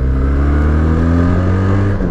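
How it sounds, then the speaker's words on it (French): A Benelli TRK502 motorcycle being ridden, its engine holding a deep, throaty exhaust drone with steady low harmonics that rise slightly in pitch, loud and close throughout, with no voices. "le bruit de l'échappement bien profond comme ça"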